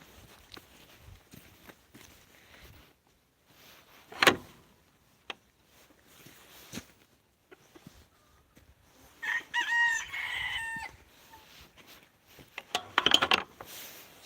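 A rooster crows during a live chicken-feeding session at a backyard coop, with two loud bursts mid-clip and late, amid fainter clucking, footsteps and rustling in an otherwise quiet setting.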